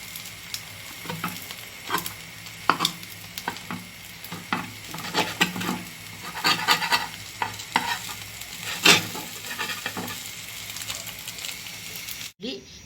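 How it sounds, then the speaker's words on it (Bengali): An egg for a sandwich poaching in a pan gives off soft sizzling, with intermittent scraping and stirring clicks of a utensil against the pan, close by; a voice talks now and then. "আমি স্যান্ডউইচের জন্য এটা ডিমটা পোচ করে নিলাম একসাথেই।"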